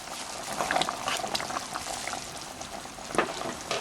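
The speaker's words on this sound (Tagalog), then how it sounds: "kumukulo na itong gata" Gentle bubbling and soft popping of coconut milk simmering in a pot, close and fairly quiet, with small irregular bursts throughout.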